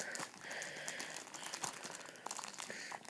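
Plastic packaging of a McDonald's Pokémon toy crinkles and crackles up close in quiet, continuous handling, with no talk over it.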